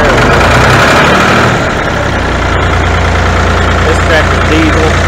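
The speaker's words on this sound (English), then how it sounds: "this tractor's diesel." A loud diesel tractor engine idles steadily with a low, rough rumble that fills the whole clip.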